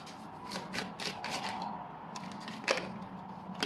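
Deck of tarot cards shuffled by hand, a close, quiet run of rapid papery riffles and slides in bursts, with one sharp card snap near the end.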